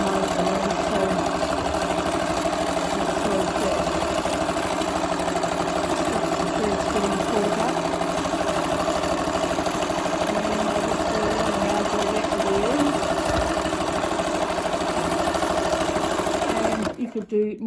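A sewing machine runs steadily doing free machine stitching across space to make flowers, a close, continuous fast whirring hum that stops abruptly at the end, with speech mixed in over it.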